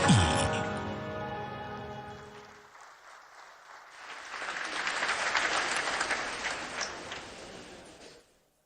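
An audience at an African Development Bank annual meeting breaks into applause, rising from a lull into a broad, sustained wash of clapping that swells mid-way and then cuts off abruptly, following a tonal musical passage.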